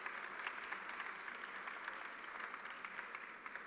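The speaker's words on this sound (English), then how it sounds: "big round of applause." A conference audience at the FOGSI AICOG 2024 meeting in Hyderabad claps steadily; the applause is faint and distant, an even, dense patter.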